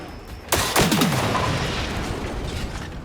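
In the Generation Zero video game, an enemy machine charges in with a loud, heavy crash and rumbling blasts, followed by a sustained roar of gunfire and noise that stays dense and close.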